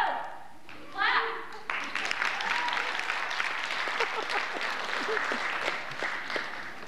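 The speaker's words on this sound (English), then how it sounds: "Clap!" Audience applause at a university student talent show, rising sharply after a brief lull and continuing as dense, steady clapping with scattered voices and cheers mixed in throughout.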